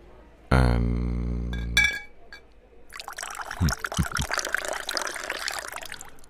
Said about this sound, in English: Fancy a glass of this wine my girl picked out.